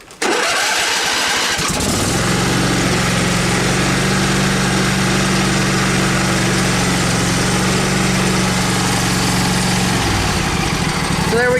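A John Deere engine cranks with the choke on after sitting unused for a while, catches and fires up loudly, then settles into a steady, close, humming idle that holds for several seconds before cutting out.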